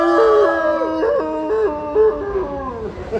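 Several people join in a group imitation of a wolf howl, their voices overlapping in long, wavering, rising and falling howls that swell and dip in a few loud, close waves.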